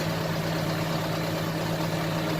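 A John Deere 6105R tractor's engine idles close by with a steady, even low hum and constant rumble, no change in pace.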